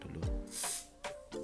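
WD anti-rust lubricant is sprayed onto an RC car driveshaft in a few short, close hissing bursts separated by brief pauses.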